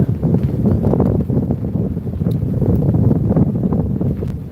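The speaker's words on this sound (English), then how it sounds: "sorry about the wind, it is very windy" Loud, gusty wind buffeting the microphone, a low rumbling roar that surges and dips throughout with no clear voices.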